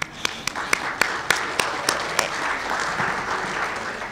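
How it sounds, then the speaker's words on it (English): Conference audience at a water conference breaks into applause, beginning with a few sharp, separate claps in a loose rhythm that quickly blend into a steady wash of clapping. "So a round of applause for all of you."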